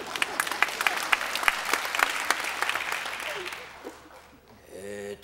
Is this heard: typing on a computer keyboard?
no